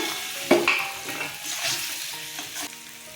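Potato pieces dropped into a hot pan for sarse posto patol sizzle and crackle up close, with a sharp stir or clatter near the start, then a softer, uneven frying hiss with scattered pops.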